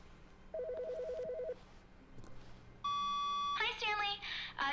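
Telephone ringing in The Stanley Parable video game: a short electronic warbling ring, then a sustained beep-like tone, followed by a voice on the line, all fairly close and clear.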